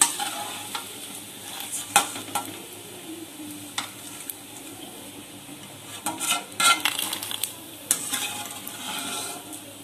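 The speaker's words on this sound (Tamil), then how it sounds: "இப்ப எண்ணெய் வந்து கொஞ்சம் காஞ்சிடுச்சு நம்ம இதல corn வறுத்துடலாம்" Corn kernels fry in oil in a pan, a soft steady sizzle broken by irregular scrapes and clinks of stirring, close but fairly quiet.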